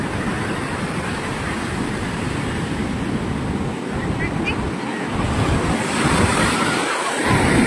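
Sea waves break and wash at RK Beach in Visakhapatnam, a continuous roar of surf with wind buffeting the microphone and deeper thumps as waves come in, growing louder toward the end.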